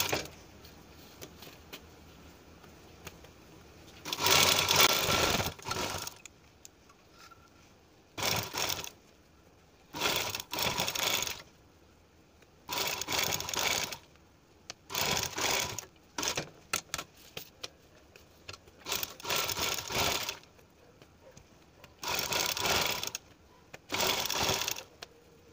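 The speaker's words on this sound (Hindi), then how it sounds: "एक बराबर से सिलाई लगाते हुए।" A sewing machine stitches a sleeve pattern in repeated short runs, each burst of fast mechanical whirring lasting a second or two, separated by quiet pauses, close and fairly loud.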